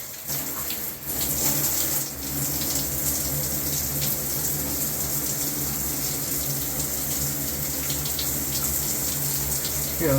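Water runs steadily from a kitchen faucet just fitted with a replacement Moen Mixit cartridge, a continuous close splashing stream into the sink for the whole stretch.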